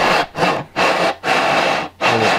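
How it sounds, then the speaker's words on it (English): A sanding bar rubs back and forth along a foam-and-wood model airplane wing for the E-flite Advance 25e, making five close, loud, rhythmic rasping strokes with brief pauses between them. "Then you can take a sanding bar if you need to smooth this thing out,"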